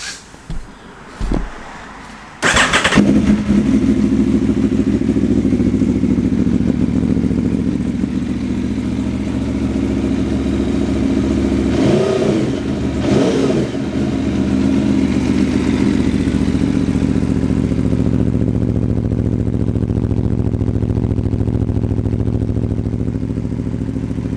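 A 2017 Aprilia Tuono V4 Factory motorcycle engine cranks and fires up after a couple of short bursts, then settles into a loud, steady idle with a brief blip of revs midway.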